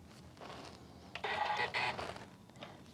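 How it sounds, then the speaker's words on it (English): A Janome Continental M7 sewing machine's needle threader lever is pushed down, giving a short run of soft mechanical clicking and rattling near the middle of an otherwise quiet stretch, with a fainter click just after. "push down on this lever very gently, give it a little final push, and your needle's threaded perfectly"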